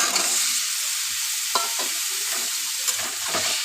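Pumpkin and potato with turmeric fry in hot oil, a loud, continuous sizzle up close, with a few soft scrapes as the pieces are stirred; no speech.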